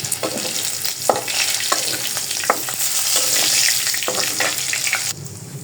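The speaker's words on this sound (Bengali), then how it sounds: "আমার জন্য এই পিসগুলা ভাইজা রাখবো এখানে ভাজা শেষ" Broiler chicken pieces frying in a pan give a steady, loud, close sizzle with repeated clinks and scrapes of a utensil stirring through them.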